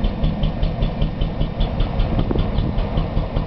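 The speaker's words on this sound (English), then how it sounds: "Right now the engine is running at about a 25 amp load, loaded pretty heavily, and that's the extent of the exhaust note." A generator engine runs under a heavy 25 amp load, its exhaust note a steady, rapid pulsing chug heard from about 12 to 15 feet away, constant and fairly loud with no talk.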